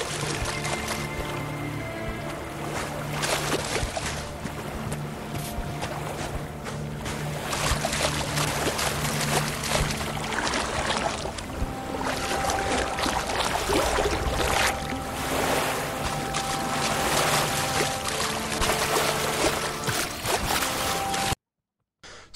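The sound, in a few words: water splashing as character runs through water, Guild Wars 2 video game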